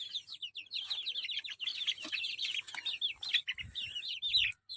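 Free-range country chickens on a small poultry farm garden, with a rooster and hens clucking and chirping continuously, close and lively, with a few soft rustles underneath.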